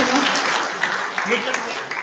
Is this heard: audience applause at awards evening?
yes